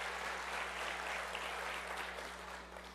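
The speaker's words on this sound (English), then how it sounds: "A big round of applause for her." An audience at a talk on team trust applauds, a dense even wash of clapping at moderate distance over a steady low hum, fading slightly at the close.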